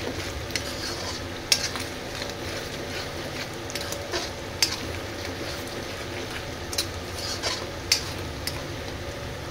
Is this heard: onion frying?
yes